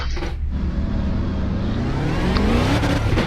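A race car in a racing simulator, engine revving steadily with rising pitch as it accelerates through the gears, close and continuous, with a brief downshift blip near the end.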